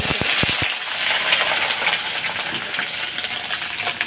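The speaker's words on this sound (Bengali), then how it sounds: "যেহেতু আলু সোয়াবিনের তরকারি আলুটা আমি ভেজে নেবো একটু লাল লাল করে" Potatoes dropped into hot oil with cumin tempering hiss and sizzle steadily and loudly at close range, with a few sharp crackles at the start as the pieces hit the pan and a continuous bright fry throughout.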